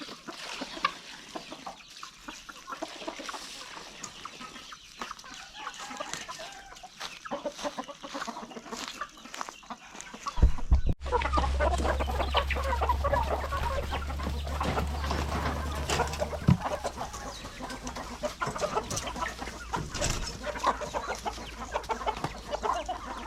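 Chickens cluck and call together on a Thai farm during morning feeding, a steady flock chatter near and loud that swells after about ten seconds as more birds gather, with no talk over it.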